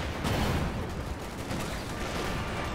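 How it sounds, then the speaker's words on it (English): Rounds strike a Sherman tank in Company of Heroes 2 amid a dense, continuous wash of battlefield gunfire and impacts, loud and steady throughout without clear separation between individual hits. "Multiple good hits there on the Sherman tank"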